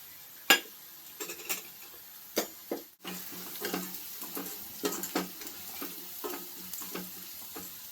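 Mustard seeds tempering in hot oil for a traditional huli gojju, heard up close as a steady sizzle with sharp, irregular crackling pops, some louder bursts standing out.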